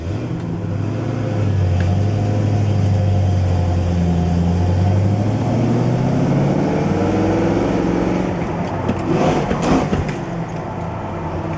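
A 1965 Chevrolet Impala SS on a test drive, its engine rising in pitch as the car accelerates through the gears, a loud, close drone climbing and then dropping back, with a brief rattle near the end.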